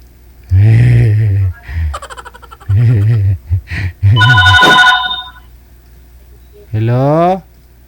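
A telephone rings in bursts of an electronic ringtone, alternating with people talking loudly nearby, with a final rising warble near the end.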